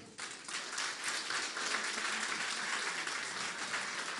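An audience at a live show breaks into applause, dense steady clapping that rises at once and holds for several seconds.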